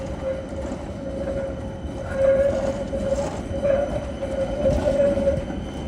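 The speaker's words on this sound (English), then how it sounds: "I think we don't get to see the tram going through the street because that was number 2 that just went by" Helsinki tram number 2 passes along a city-centre street on a Friday evening: a sustained metallic whine rides over a low rolling rumble that swells as it goes by, heard at moderate distance with no talk.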